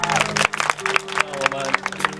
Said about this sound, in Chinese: 所以要给他掌声一下